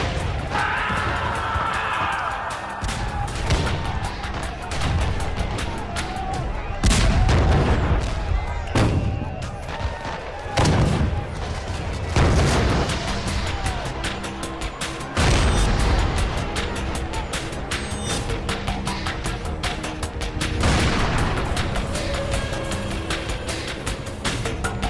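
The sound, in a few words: gunfire and artillery at the Alamo battle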